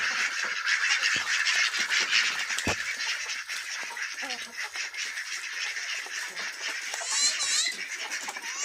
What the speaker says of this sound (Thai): เป็ดบาบารี่นะครับพ่อแม่พันธุ์ของเป็ดบาบารี่นะครับ